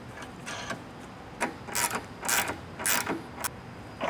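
A hand ratchet tightens a nut during a parts installation, giving several short, close bursts of quick mechanical clicking separated by brief pauses.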